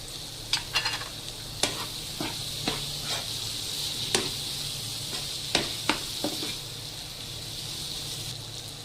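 Boiled chicken being stir-fried with pepper and salt in a pan for chicken noodles: a steady sizzle runs throughout, with repeated sharp scrapes and clinks of a spatula against the pan at irregular intervals, close and moderately loud.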